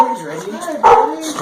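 A dog named Reggie, loose from his cage, gives a single short bark close by, layered over steady voices talking.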